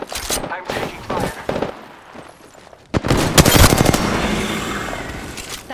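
Rapid bursts of gunfire in a shooter video game, loud cracking volleys that pause briefly then resume heavier and sustained, with voices talking underneath.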